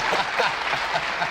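Studio audience clapping and cheering, a dense, steady burst of applause filling the short moment at close range.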